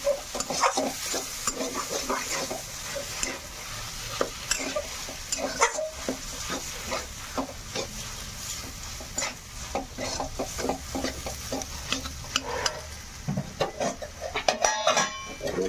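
Potatoes are stir-fried with green chillies in a pan, making a close, busy sizzle under constant scraping and clinking of a spoon against metal. The dish is a Hindustani doi aloo.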